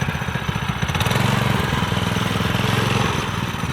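A small engine on a mini monster bike built from scrap runs close by, a loud, rough, rapidly pulsing putter that swells slightly midway and holds steady.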